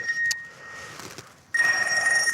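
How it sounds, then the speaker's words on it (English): A mobile phone starts ringing in the middle of a filmed interview, a bright electronic ring tone that sounds briefly, pauses, then comes back louder and sustained. "I've left my phone on"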